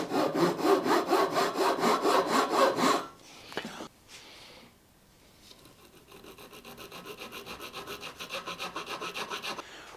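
A hand saw cutting the nut slot on a maple guitar neck, with rapid rhythmic rasping strokes, close and loud, then a pause with a few knocks before the sawing resumes at a steady pace.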